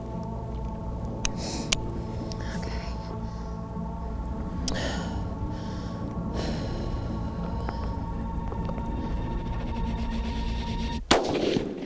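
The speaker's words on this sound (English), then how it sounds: "get steady on the rifle and make an accurate shot" A single loud rifle shot fired at a mouflon ram during a hunt cracks out near the end, after a long stretch of low outdoor rumble.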